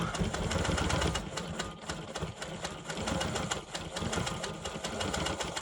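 A Quilt Maker Pro 20 sewing machine quilting a pebble pattern, its rapid mechanical stitching chatter running steadily and close, briefly easing in pace between bursts.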